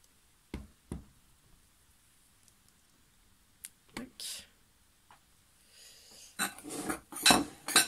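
Homemade toothpaste mixture being stirred in a small container, with scattered clicks and knocks of a utensil against its sides that grow busier and louder toward the end. The sounds are close and mostly quiet between strokes.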